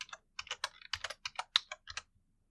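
Keys clatter on a computer keyboard as a search term is typed into a game-engine editor: a quick, uneven run of about a dozen crisp taps in short clusters, close and fairly quiet, ending in silence.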